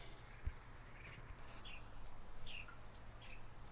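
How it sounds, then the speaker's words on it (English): Faint birds chirp in short, scattered calls over a steady high insect drone, with a couple of soft knocks early on. "You hear the birds?"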